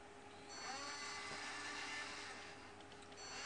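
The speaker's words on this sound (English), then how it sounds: "So that was a move clockwise and counterclockwise, and what it's now doing is finding the home position" A small motor in a Picaxe-controlled 5-axis robot arm whirs steadily at low level, a thin high-pitched mechanical whine that holds for a few seconds with slight changes as the axis moves.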